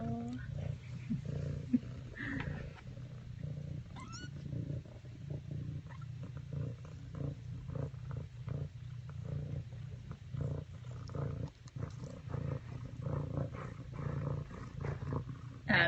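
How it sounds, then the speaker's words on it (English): A contented mother cat purrs with a steady, low, continuous rumble while nursing her tiny kittens. The purr stays close and even throughout, with faint voices now and then. "She purrs all the time."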